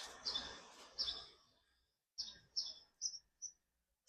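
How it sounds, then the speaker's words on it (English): Birds chirp outdoors after rain has stopped, a series of short, bright, high calls spaced irregularly, moderately near and fairly faint, with soft background noise at the start. "And now the rain has subsided and the birds are chirping."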